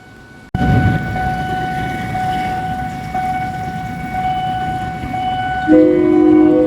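Sprinter train pulling out of Bangkok Hua Lamphong station, a loud steady engine rumble starting abruptly, with sustained horn-like tones running through and a brighter, louder tone near the end.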